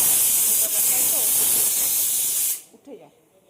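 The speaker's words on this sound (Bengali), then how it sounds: "চলো, এটা সিটি পড়ে গেছে" A kitchen pressure cooker whistles as it vents steam, a loud continuous hiss lasting about two and a half seconds before cutting off abruptly, followed by faint clatter and a brief voice.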